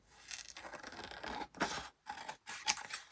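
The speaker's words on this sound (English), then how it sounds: "Let's use the scissors that I don't mind getting gluey." Scissors snip through card and paper while crafting, giving a close series of crisp crunchy cuts in short bursts separated by brief pauses, with no voices.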